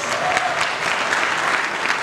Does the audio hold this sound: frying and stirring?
no